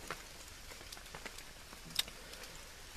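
Morning rain falls on a tent or campsite surface, a faint steady patter of scattered drops with one sharper tap, quiet and without voices.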